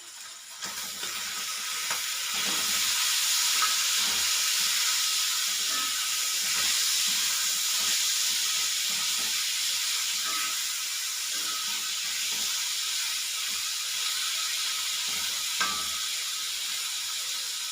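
Tomatoes and green chillies sauté in a pan for a cauliflower gravy, with a soft, steady hiss and sizzle and faint occasional stirring scrapes.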